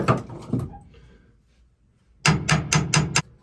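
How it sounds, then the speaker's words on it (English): Metallic hammer taps ring out on a boat propeller shaft, two strikes, a pause, then a quick run of about five even blows close by. "Pop it with a hammer."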